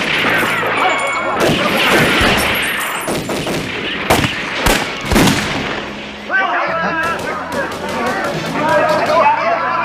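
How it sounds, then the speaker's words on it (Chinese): Gunfire in a 1985 Hong Kong action film scene, loud sharp shots and crashing impacts bursting through a dense, chaotic mix, with shouting voices and talk throughout. "我听到枪声啊！"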